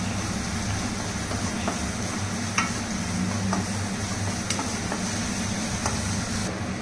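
Chopped onions fry in a pan with a continuous hissing sizzle, punctuated by occasional light clicks and scrapes from stirring.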